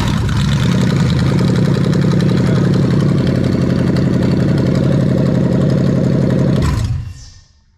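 A Toyota 1UZ-FE V8 car engine runs steadily at a loud, close idle for several seconds, then cuts off and fades away.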